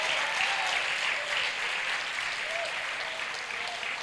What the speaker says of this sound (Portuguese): Pode ser mais alto as suas palmas, pode dar glória a Deus.